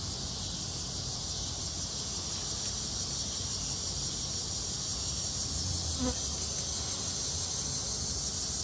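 Honey bees buzz around an open hive during an inspection, a steady high droning hum that stays faint and even throughout, with a brief sharp tick partway through.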